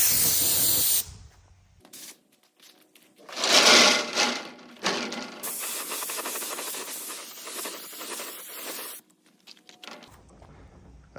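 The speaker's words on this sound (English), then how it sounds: "Let's go spray." A spray gun applies SPI epoxy primer outdoors, giving off bursts of loud hissing spray, one strong burst followed by a long steady hiss that cuts off abruptly near the end.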